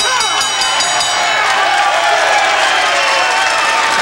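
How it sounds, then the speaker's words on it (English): A boxing arena crowd cheers and roars at the end of a fight, a dense unbroken wall of noise at steady loudness for the whole stretch, with no distinct voices standing out. "listen to the crowd for Kennedy McKinney"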